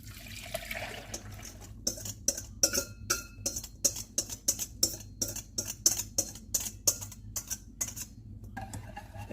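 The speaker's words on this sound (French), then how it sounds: "on va laisser la crème s'épaissir en mélangeant au fouet une dizaine de minutes" A wire whisk beats cream in a saucepan over medium heat, giving a steady run of quick metallic clinks and scrapes against the pan, close and fairly loud with no talking.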